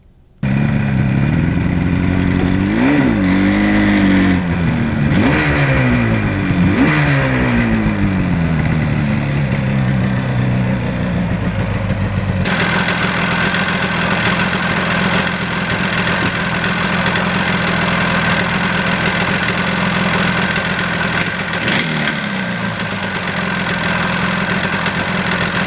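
A Yamaha RD400 motorcycle engine runs steadily, revving in a few rising and falling bursts early on before settling into a continuous loud idle, close by with no talk.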